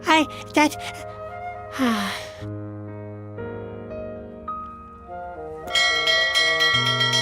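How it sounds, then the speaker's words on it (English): Bright, ringing bell tones from the video game The Whispered World rise and fall through a short sequence, with gasps and sighing voices mixed in. "Are you ringing the bell again?"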